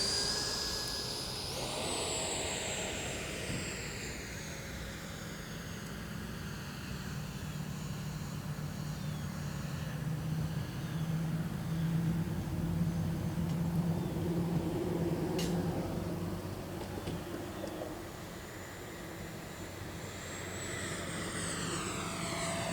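A Freewing F9F Panther 70mm EDF model jet makes a slow flaps-down pass, its ducted-fan whine rising and sweeping in pitch as it approaches, passes close and recedes, loud and steady throughout with no talking.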